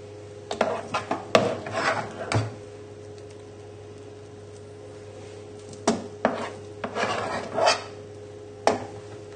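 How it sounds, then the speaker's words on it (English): Mashed potato spooned one blob at a time onto a shepherd's pie, giving soft scraping and rasping thuds of a spoon against the dish in short clusters with quiet pauses between, over a steady background hum. "spooning on the mashed potato, and the way I normally do this is just sort of one spoon at a time"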